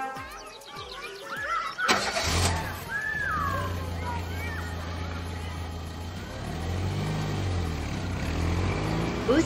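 A cartoon bus engine cranks with a few sputters, catches, and settles into a steady droning rumble as the bus pulls away, with a slight swell in pitch near the end.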